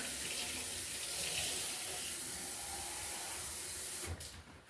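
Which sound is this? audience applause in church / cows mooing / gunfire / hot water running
hot water running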